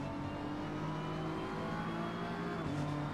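A Cummins inline-six race car on track at Donington Park pulls steadily, its engine a constant, fairly faint droning roar with shifting pitch throughout.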